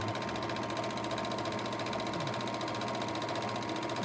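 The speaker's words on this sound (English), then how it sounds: "And I'm just serging along" Juki MO-80 CB free-arm serger stitches through fabric layered with batting, a steady rapid mechanical chatter running continuously at close range with no voices.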